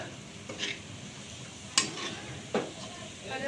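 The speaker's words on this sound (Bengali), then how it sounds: "তেলটার মধ্যেই আমি দুটো তেজপাতা দিয়ে দিলাম, দিয়ে দিচ্ছি একটু গোটা গরম মশলা ফোড়নে" Bay leaves and whole garam masala tempering in hot oil, a low steady sizzle broken by a few sharp clinks of a utensil against the pan.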